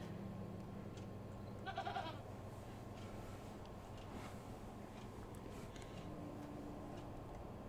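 A goat in The Excavation of Hob's Barrow, a point-and-click adventure game, gives one brief bleat over a low steady game ambience.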